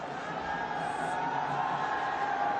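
A stadium crowd cheers at a night cricket match between Desert Vipers and MI Emirates in the ILT20, a steady distant roar that holds without a break.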